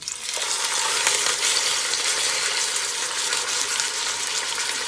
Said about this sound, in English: so now I'm gonna start searing my roast